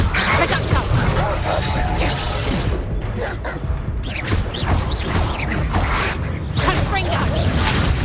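Spellcasting combat in Hogwarts Legacy, with a Reducto blasting curse going off amid dense game effects: whooshes, crashing and mechanical clatter over a busy low rumble, with voices in the mix.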